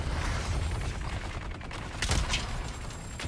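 Gunfire in the desert survival game Dune: Awakening: a continuous rattle of shots, then a sharper, louder pair of reports near the end.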